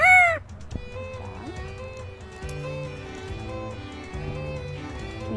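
A parrot imitating a rooster's crow, a single loud, rising-and-falling call right at the start, followed by quieter steady tones and background hum.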